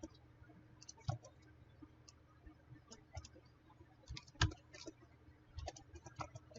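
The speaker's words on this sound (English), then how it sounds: "I type in on the keyboard." Typing on a computer keyboard during a house-modelling session in SketchUp, soft scattered key clicks in short irregular bursts with one louder tap near the middle, close but quiet.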